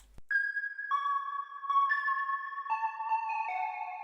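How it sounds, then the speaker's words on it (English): A synthesizer oscillator plays a clean sustained tone in a melodic sequence of stepped pitches, each note held and changing every half second or so, bright and isolated with no voices. "Let's start with oscillator B. This is what it sounds like."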